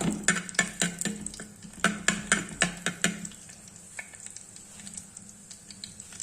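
A small piece of ginger fries in a pan while a utensil clanks against it in a quick rhythmic run of stirring strokes, then a soft, steady sizzle carries on alone.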